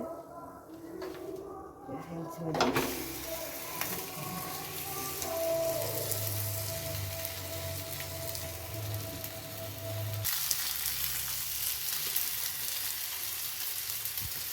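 Palak roti sizzles and fries on a hot pan in a steady, moderately loud hiss, with a few clinks and small movements near the start and no clear talk.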